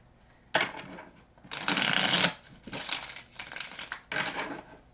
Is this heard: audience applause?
no